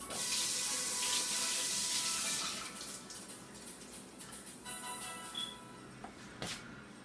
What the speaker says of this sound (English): Let me wash my hands off first.